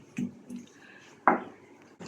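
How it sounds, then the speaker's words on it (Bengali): Beef being pounded by hand before frying, a few separate dull thuds on a kitchen surface, one sharper knock near the end, set against quiet surroundings. "ভাবি মাংস ছেঁচে নিচ্ছে"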